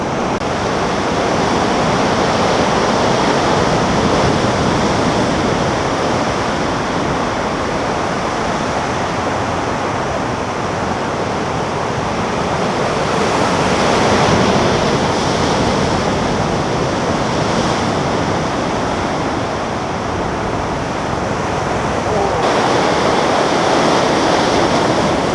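Continuous roar of ocean waves breaking on a Hawaiian shore, heard up close with steady surging wash and occasional swells, and some wind buffeting on the microphone.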